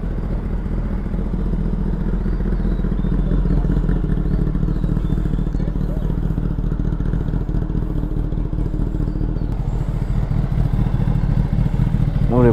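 A Kawasaki Ninja sport bike, either an H2 or a ZX-10R, idles close by, a loud steady engine rumble with a clattering mechanical texture and no revving.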